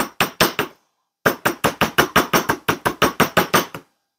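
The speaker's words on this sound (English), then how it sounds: "I'm going to straighten it out using the mallet and bench block technique" A mallet strikes wire on a steel bench block to flatten it for a cold-connection bangle: sharp, close, evenly paced taps, three, then a short pause, then a rapid run of about a dozen blows.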